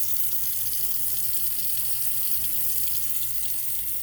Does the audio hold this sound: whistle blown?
no